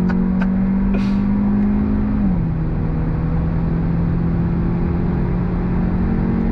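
A 2022 Hyundai Elantra N Line engine holds a steady drone at triple-digit speed, its pitch dropping slightly partway as it shifts, with road rumble underneath and no talking.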